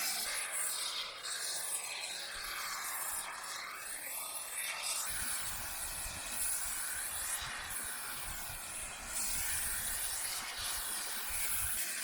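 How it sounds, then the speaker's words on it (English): Spray foam insulation hisses from a can into a box in a steady, loud, continuous spray that stays close and unbroken for the whole stretch, with no voices. "Let's fill it with spray foam."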